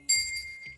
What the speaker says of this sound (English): I have my little bell because it's really beautiful.